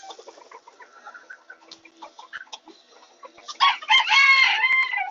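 Backyard urban homestead chickens clucking softly in scattered bursts, then a rooster crows loudly and close, dominating the end.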